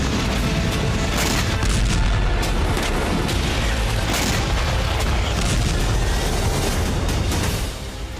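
Continuous loud, rumbling blasts and booming detonations from an explosion in wartime news footage tied to the Israel, Iran and Hezbollah conflict, with dense low-end roar and repeated sharp bursts throughout, fading slightly at the end.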